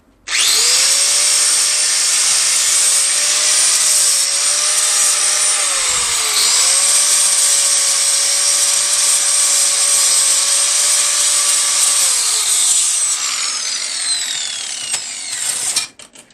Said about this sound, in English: I'm doing that with a flapper wheel.